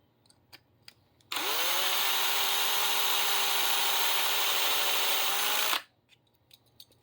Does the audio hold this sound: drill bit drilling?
yes